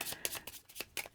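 A deck of cards from a collectible card game is shuffled by hand, giving a quick run of soft riffling bursts and flutters at close range, with no talking.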